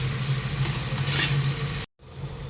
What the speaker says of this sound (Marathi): कांदा आपला आता छान फ्राय झालेला आहे